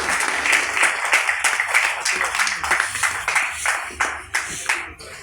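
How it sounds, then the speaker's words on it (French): Applause from an audience at a women's league ceremony closing Women's Month, a loud dense burst of clapping that gradually thins into scattered, separate claps near the end. "sous vos applaudissements s'il vous plaît"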